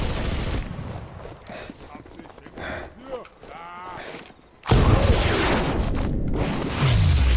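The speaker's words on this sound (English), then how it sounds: "Oh no, they have a gunner turret." A gunner turret opening fire in Sniper Elite 4, heard as a loud, dense burst of gunfire and booms in the second half, with speech and softer game noise before it.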